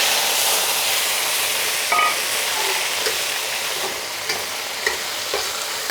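Loud, continuous sizzling as beef hits a hot wok, a dense hiss of frying with occasional pops and crackles, close and alone with no talking.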